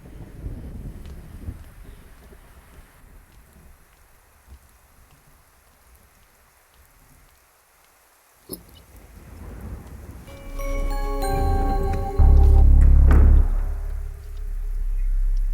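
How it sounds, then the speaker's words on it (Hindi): Heavy rain falls steadily, rising to a loud, dense downpour with a heavy rumble near the end, and no voices are heard. "एक तो बारिश भी नहीं रुक रही"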